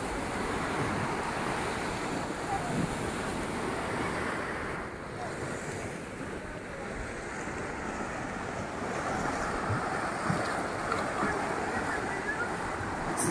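Rough sea waves roll onto the shore beside a seaside promenade at Baška Voda, a continuous loud wash of surf mixed with heavy wind buffeting the microphone.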